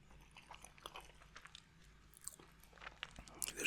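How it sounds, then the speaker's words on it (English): Quiet crunching bites and chewing of a doughnut with caramel icing, soft close mouth sounds with small crisp crackles, no talking. "there's a very slight crunch to the caramel icing"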